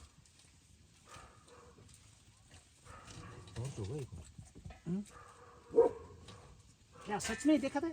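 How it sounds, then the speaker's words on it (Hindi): Dogs guarding sheep and goats bark at night in a forest, in short irregular bursts from some distance, mixed with people talking nearby. "कुत्ते तो भौंक रहे हैं ना।"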